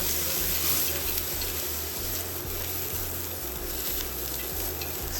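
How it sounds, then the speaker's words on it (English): Flour being stirred and cooked in a pot for pulled pork pinto beans, a steady, even sizzle with a low rhythmic pulsing underneath, constant and close throughout. "Stir it, let that flour cook for a second."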